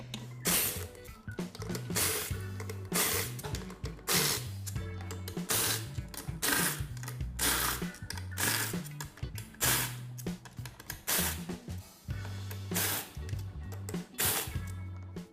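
A ratcheting wrench loosens bolts on the rear cover of an automatic transmission, giving a steady run of quick metallic clicking bursts with brief pauses between bolts, close up with no talk.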